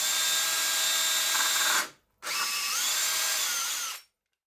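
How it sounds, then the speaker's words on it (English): A power drill whines at high speed drilling holes through a wooden baseboard in two long bursts separated by a brief pause, loud and close, its pitch shifting as it bites. "I'm drilling them, though, all the way through the board."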